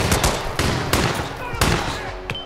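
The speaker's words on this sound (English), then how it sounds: "there were two guys, they were shooting me" Rapid bursts of gunfire in a video game shootout, several sharp loud shots cracking in quick succession at close range, with short gaps between volleys.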